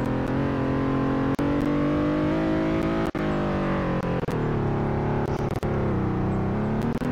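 Car engine from the Roblox driving game Greenville, a steady loud drone with rising and shifting pitch as it revs, running continuously throughout with a few brief clicks and dips, no talking.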